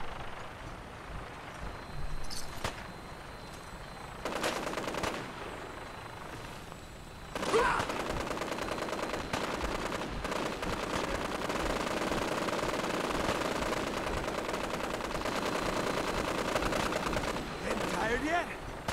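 Gunfire in Fallout 4, including a Gauss rifle, during a Brotherhood of Steel assault: sustained automatic shooting and blasts dense from about seven seconds on, with scattered shots earlier and a voice talking beneath.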